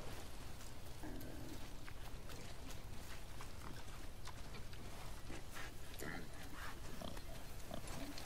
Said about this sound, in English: Oh, here's the boar.